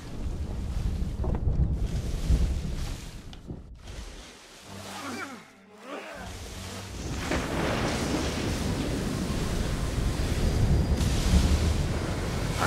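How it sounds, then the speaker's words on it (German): Ship sailing into a storm at sea in Assassin's Creed III, with gusting wind, rushing waves and creaking hull noise that dips briefly midway before building back to a loud, continuous roar. "Ihr wollt in einen Sturm hineinsegeln?"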